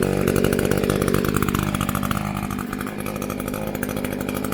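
A gas-powered weed whacker with a newly replaced carburetor runs steadily at close range, a loud, continuous buzzing engine drone that eases slightly partway through and holds there.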